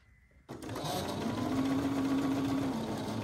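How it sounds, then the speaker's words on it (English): A Bernina sewing machine starts abruptly and stitches steadily over a thick quilt seam. Its motor whirs loud and close, with a rapid needle rattle and a rising tonal whine. "Even my Bernina's gonna struggle going over that because it is like super thick."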